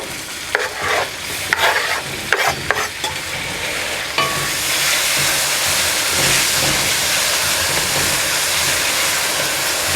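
Tomatoes hit hot ginger garlic paste in a pan for a dhaba-style dal kaddu, first with a few clanks of stirring, then a loud, steady sizzle and hiss that carries on to the end.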